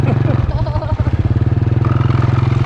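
A motorcycle pushes through floodwater from the overflowing Mekong, its engine putting out a steady mid-pitched pulsing drone close by, with splashing and a voice briefly heard at the start.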